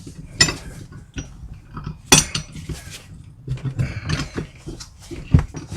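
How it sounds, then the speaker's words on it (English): A tire changer clamped in a vise breaks the bead of a lawn tractor tire, with irregular metallic clanks, creaks and ratcheting scrapes at close range, a few sharp knocks standing out. "I got my tire changer assembly set up in my vise here, and so now I'm just using this thing to break the bead all the way around"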